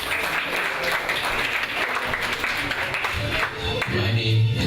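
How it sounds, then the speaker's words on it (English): Audience applause at a live variety show, dense and steady clapping filling the room for several seconds and swelling slightly toward the end. "Round of applause."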